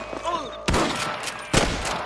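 Gunfire from snipers in the western video game Red Dead Redemption, two loud sharp shots about a second apart cutting through a brief spoken line and background game noise.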